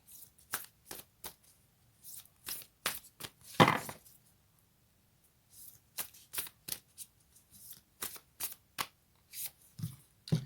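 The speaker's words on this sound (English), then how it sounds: "Let's get a Moonology card." Moonology oracle cards being shuffled by hand, a run of quick crisp riffling bursts and soft card slaps in bursts separated by short pauses, close and fairly quiet, with no one talking.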